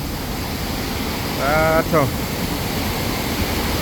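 A waterfall with water turning light blue gives a steady, loud broadband rush that fills the whole stretch, with a brief voice cutting in near the middle.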